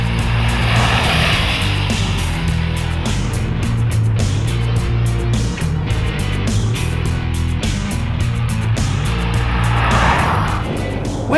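Range Rover Sport HSE with a 5-litre supercharged V8 delivering 505 horsepower drives along with a steady, loud engine drone and road roar, continuous for the whole stretch with no talk.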